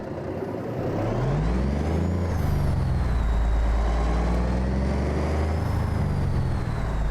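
Heavy truck in American Truck Simulator running a physics mod, with a steady loud engine drone and rolling noise and a long hissing air-brake release, no voices.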